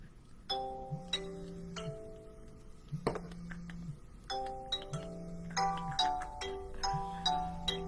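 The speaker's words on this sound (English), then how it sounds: "my phone is ringing" A phone ringtone plays a repeating electronic chime pattern, four rings about a second apart, each a short melodic burst over a low tone, fairly close.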